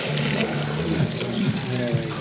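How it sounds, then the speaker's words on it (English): Water poured over a mole seasoning blend during a traditional mole cooking class in Puebla, Mexico: a steady wet pour and splash lasting a couple of seconds, close by, over a low murmur of background voices. "So let's go ahead and get this all nice and wet."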